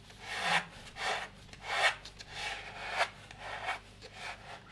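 Packing tape smoothed by hand along the seams of a box while packing a fragile museum object, heard as soft close rubbing strokes in a steady repeating rhythm, quiet and intimate with no talking.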